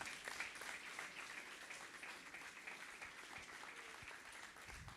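A church congregation claps for the Lord during a Spanish-language evangelical service in Venado Tuerto, a steady, fairly faint spread of many hands applauding together from some distance.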